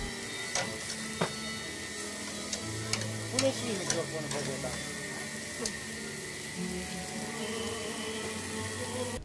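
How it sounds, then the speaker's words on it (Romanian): Grills sizzle while small fish fry at an outdoor beer festival, a steady crackling hiss with scattered sharp pops and clinks of utensils, close up. "Grătarele sfârâie, iar mirosul îmbietor atrage trecătorii ca un magnet."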